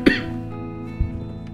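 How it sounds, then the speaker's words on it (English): A single sharp cough lands close into a microphone, followed about a second later by a second, smaller throat sound, over a steady low hum. "Should turn away from the microphone when I cough, not into it"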